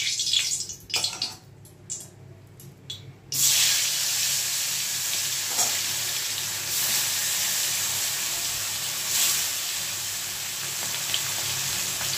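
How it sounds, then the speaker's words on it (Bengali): Fish pieces frying in hot oil give a steady, loud hiss and sizzle that starts after a few seconds of quieter clatter and continues evenly, with no one talking. "এবারে এক এক করে মাছ ভেজে নেব।"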